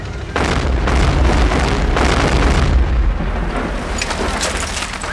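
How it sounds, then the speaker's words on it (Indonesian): Several heavy booming blasts in quick succession, loud and rumbling, blending into a continuous roar that slowly fades with lingering crackle. "Rangkaian ledakan ini justru malah langsung melukai komandan mereka, Letnan Touchdown"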